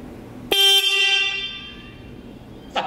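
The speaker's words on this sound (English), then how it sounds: "one of two things will happen. The wiring will catch fire, we'll blow a fuse, something will melt, or we'll get a horn honk." Car horn hooked up to a switch gives a loud abrupt honk that decays over about a second, followed by a second short blast starting at the very end.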